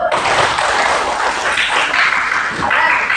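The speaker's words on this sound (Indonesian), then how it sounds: "Tepuk tangan dulu." Schoolchildren clapping together in a classroom, a lively round of hand claps at close range, with a teacher's voice and children's voices breaking through the clapping.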